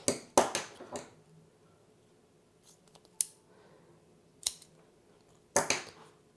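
Scissors snipping off rotten plant roots, a few sharp, close clicks and snips spaced irregularly, with a pair of quick cuts near the start and more near the end, otherwise quiet.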